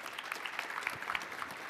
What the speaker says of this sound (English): how about a round of applause for the fair Natalie Evans here?